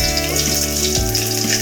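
Crushed garlic dropped into a hot pan with chana dal frying for a karamani rice dish, giving a steady close sizzle with a low hum underneath and no talk.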